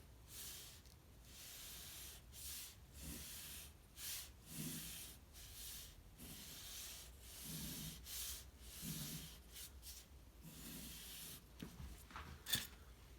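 Pencil or marker drawing a cone on paper, a soft, dry rubbing scratch in repeated strokes, close and quiet, with no voices.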